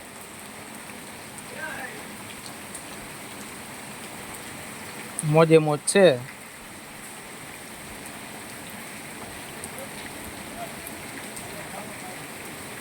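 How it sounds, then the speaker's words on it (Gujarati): Steady monsoon rain falls in Gujarat as a constant even hiss. Someone speaks briefly in the middle and then goes quiet. "વરસાદ વળી ધીમો થાય વળી વધે એવું વાતાવરણ છે અત્યારે"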